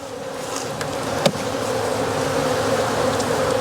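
Honey bees pour a steady, dense buzz from an opened backyard hive during a spring inspection. The agitated hum holds constant and close throughout, with one brief sharp knock partway through.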